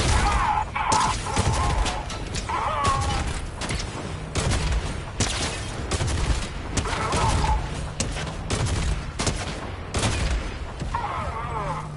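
Rapid bursts of gunfire crack repeatedly as robots are shot in Fortnite, dense volleys in clusters with short gaps, over game sound effects.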